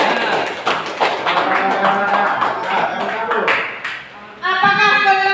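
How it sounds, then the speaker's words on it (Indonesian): An audience at a village group presentation claps their hands for a group's contribution, a scattered burst of applause mixed with talk, followed by a short run of spoken voice. "Oke, tepuk tangan untuk masukannya."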